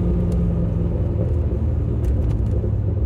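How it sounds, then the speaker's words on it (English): A Chevrolet Corvette's exhaust rumbles low and steady as it downshifts, with a few brief sharp burbles or pops breaking through the deep drone. "See if you can hear the burbles, the downshift."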